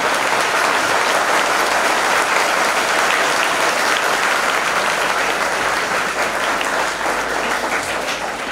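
A crowd at a school opening breaks into loud, dense applause that holds steady and continuous throughout, with no speech over it.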